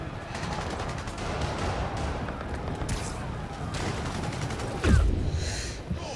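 Video game gunfire with a sniper in the firefight: a steady rattle of distant shots runs throughout, broken by one louder, deeper boom near the end.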